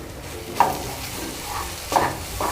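Turmeric, chili, coriander and cumin powders being sautéed in a pan for an eggplant and paneer dish give a soft continuous sizzle, punctuated by a few louder stirring scrapes and spurts.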